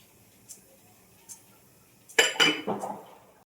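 A frying pan is set down on a home kitchen stove before fish is fried. Two faint light clinks come first, then a loud, close metallic clatter and a few rattling knocks as it settles.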